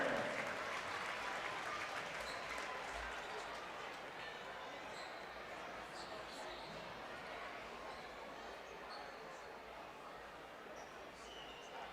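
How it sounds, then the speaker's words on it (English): Crowd applause rings out in a gym at a high school boys basketball game, a dense, fairly faint clapping that holds steady and slowly tapers over several seconds. "Let's give a warm round of applause to Hunter and Carter."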